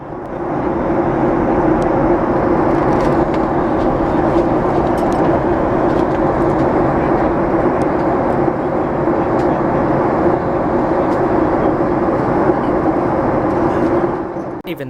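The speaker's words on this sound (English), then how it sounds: "we're already on the descent for Miami International, and will eventually be landing on runway 12" Steady, loud engine and air roar fills an American Airlines Boeing 737 MAX 8 cabin during descent into Miami International, unbroken for the whole stretch with only faint clicks on top.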